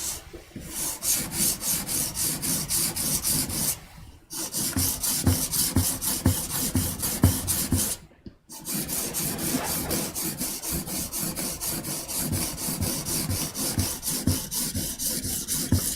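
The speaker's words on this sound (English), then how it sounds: "This part now is the actual sharpening. The rough stone is just for shaping the steel to the shape you want." A steel blade rubbed in steady rhythmic back-and-forth strokes on a sharpening stone, a continuous gritty rasp broken by two brief pauses, close and even in volume.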